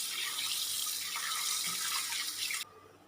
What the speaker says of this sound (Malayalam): വെള്ളം തിളക്കുമ്പോൾ നമുക്ക് അരി കഴുകിയിട്ട് വരാം.